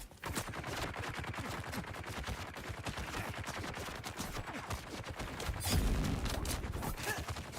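A sustained stream of rapid gunshots from the video game Dune Awakening, steady and rhythmic, with a heavier burst near the end and some faint game noise underneath.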